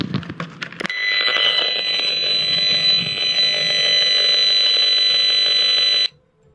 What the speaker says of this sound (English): If you had a radio that could pick up these frequencies, that's what it would sound like. Intense pulsing action.